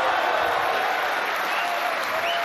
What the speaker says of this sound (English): Look at the crowd, they're going wild.